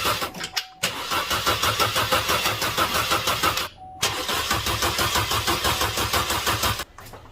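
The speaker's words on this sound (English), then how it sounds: "So we just have to keep cranking again." A Chevy Cruze engine cranking on the starter after a timing job to prime the oil, two long bursts of rapid rhythmic churning separated by a short pause, close and loud with no talking.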